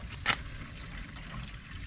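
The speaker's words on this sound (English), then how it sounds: "Twist our shut-off valve, and the water's coming in the bucket" Water flows from a twisted shut-off valve into a bucket while filling a DIY aquarium filter, a faint steady trickle and gurgle with one brief splashy burst near the start.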